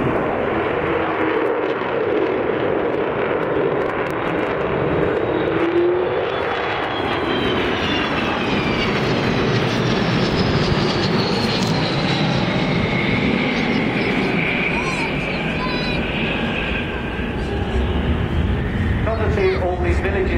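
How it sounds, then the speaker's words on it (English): Avro Vulcan bomber passing overhead in a flying display, a loud, sustained jet roar with shifting whine and howl that swells and sweeps across, with a commentator's voice talking over it. "So it's coming in now, stage right, for what will be a slightly unconventional Vulcan display"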